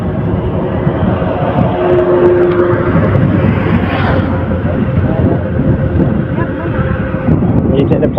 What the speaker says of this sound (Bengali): এই সাইডে বাতাস মেলা